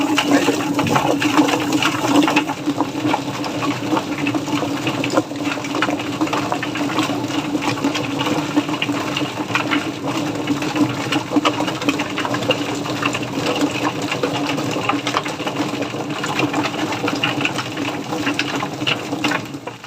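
A chicken plucking machine spins steadily on a poultry farm, giving a continuous whirring, rattling mechanical drone with a steady hum at an even level throughout, with no talking.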